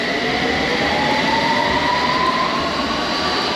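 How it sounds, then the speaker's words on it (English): Steady loud rumble of a London Underground train in motion, with a faint rising wheel whine running through the constant roar. "So we take the train till the"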